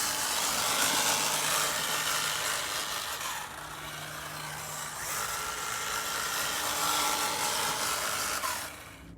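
A Hobbywing AXE brushless motor in a Gen 8 Axe Edition runs at 0 degrees turbo timing, giving a steady, close, broadband whine and whir that holds for about nine seconds before cutting off at the end, with no speech.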